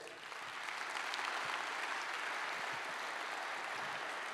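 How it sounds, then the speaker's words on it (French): Applause from a large audience at an organization's congress, rising quickly from a softer start into a thick, even roar of clapping that stays steady and fairly distant. "Merci de les applaudir pour les remercier."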